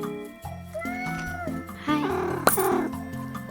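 A cat meows in the cozy street-management game Minami Lane, several short meows over bouncy background music, with a sharp click near the end.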